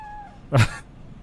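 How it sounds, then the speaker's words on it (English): A cat in the video game Cyberpunk 2077 lets out a single short, loud meow close by, with a faint tone fading out just before it. "Oh, hey, kitty cat."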